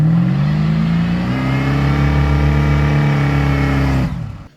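A DeSoto car engine with a carburettor revs loudly and close by, its steady throaty drone rising slightly in pitch before cutting off abruptly near the end.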